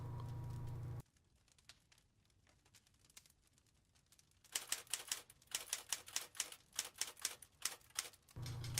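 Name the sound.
typewriter typing in Friday the 13th virtual cabin game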